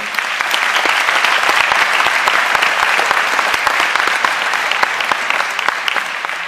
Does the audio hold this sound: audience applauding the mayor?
yes